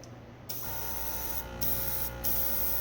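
A Gaahleri SerenAir compressor driving a GS-36 airbrush at maximum pressure gives a steady, fairly loud spray hiss, with a low, quiet compressor hum beneath it throughout.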